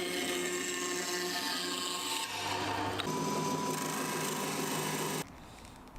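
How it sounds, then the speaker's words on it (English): Sharp blade scraping burrs off a piece of rubber wood from an old dining table, a steady close rasping scrape that stops abruptly near the end. "This left some burrs, so I used a sharp blade to clean things up."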